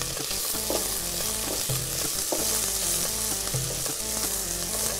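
Onion and garlic sautéing in a hot pan, a dense continuous sizzle with occasional scraping and stirring clatter from a utensil, close and fairly loud, no voices.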